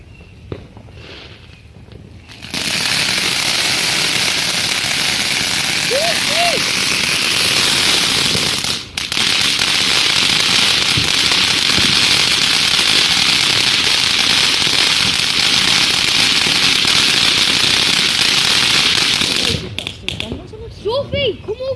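Fireworks going off on bonfire night, a dense continuous outdoor crackle and roar lasting most of the clip, with scattered sharper pops, rising after a quieter start and falling away near the end; voices talk faintly underneath.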